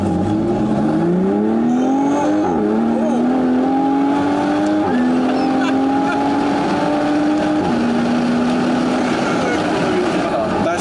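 A 340 hp turbocharged Morgan Plus Six accelerates hard, its engine note climbing steadily through several gear changes, loud and close throughout, with voices talking over it.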